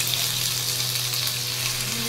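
Ginger paste frying in hot oil in a pan, a loud, continuous close-up sizzle that holds steady without pause.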